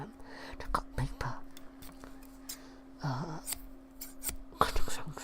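Scissors cutting paper close up, a handful of crisp snipping and rustling strokes spaced unevenly, with soft whispering between cuts over a quiet steady hum.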